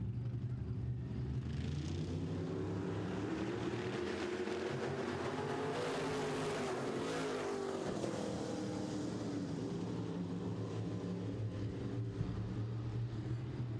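Midwest Modified race cars roaring through a turn on a dirt oval, their engines a steady dense drone that swells as the pack passes and then fades, heard from a distance with a faint announcer voice under it.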